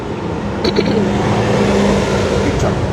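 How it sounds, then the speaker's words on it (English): A big truck rolling past on a road in Waxahachie, Texas, a loud, close rumble of engine and tire noise that holds steady across the moment with no one speaking. "Big old truck."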